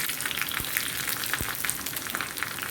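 Red chilies frying in hot oil for a Kerala snake gourd curry, a steady close sizzle and crackle with small pops throughout.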